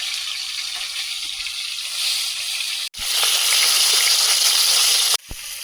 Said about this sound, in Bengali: কড়াইতে তেল দিয়ে দিচ্ছি মাছগুলো ভেজে নেব